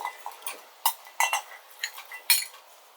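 Chicken pieces stirred into masala in a pot, a quiet series of irregular metallic clinks and scrapes from a spoon against the vessel, with no voices.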